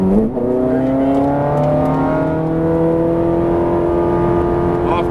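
Ferrari 430 Scuderia on a track, engine accelerating hard: a brief dip at a gear change, then a loud, sustained roar that climbs steadily in pitch, close and continuous.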